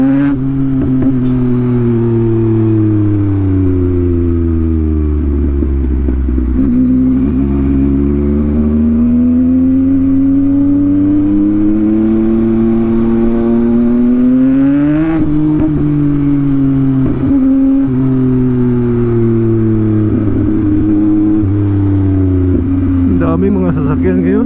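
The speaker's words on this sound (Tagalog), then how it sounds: "Daming mga sasakyan ngayon." Busy Saturday traffic of cars and motorcycles, with a prominent engine revving and accelerating through gear changes, its pitch sweeping up and down over a continuous road roar heard from within the flow of vehicles.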